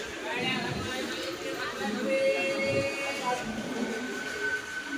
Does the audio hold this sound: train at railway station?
yes